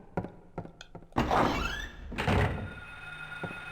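A door being tried in the Silent Hill video game, a few soft taps followed by two heavy rattling thunks of a locked door, close and loud over a quiet background.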